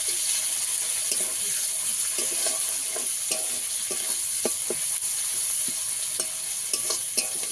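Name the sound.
chopped onions frying in a pan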